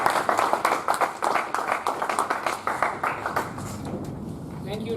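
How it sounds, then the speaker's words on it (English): At a Toastmasters club meeting, an audience gives a round of applause with quick, close-spaced claps. Voices and chatter run underneath throughout. "Give a big round of applause"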